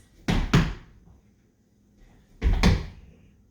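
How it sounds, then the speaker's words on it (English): Two heavy thuds of feet landing on a hard floor, each a quick double impact rather than a single hit, separated by a couple of seconds of quiet. "We want to hear that loud boom when you land"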